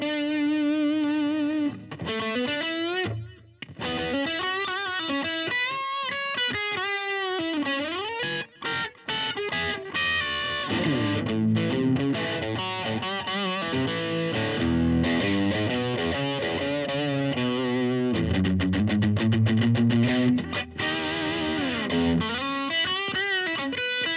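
Electric guitar fitted with a Bigsby vibrato, played loud through a tweed-style amp turned all the way up, giving a gritty, overdriven tone with wavering vibrato bends, chords and melodic runs over a long unaccompanied passage.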